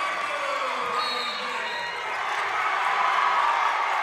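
Spectators at a PIAA Class 2A boys' basketball championship game erupt in sustained, loud cheering and shouting after a made shot, a dense crowd roar filling the gym steadily throughout.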